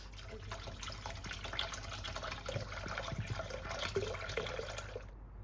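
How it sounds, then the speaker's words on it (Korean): Boiled hot water poured over spoons and forks to sterilize them, a continuous splashing trickle like a filling sink, close and steady before cutting off abruptly near the end, no talking. "혹시 모르니까 뜨거운 물 끓여가지고 수저랑 포크 소독 한번 해주고"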